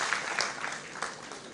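An audience at an international agricultural conference applauds during a felicitation, a dense patter of many hands clapping at once, steady and fairly near, with faint voices underneath.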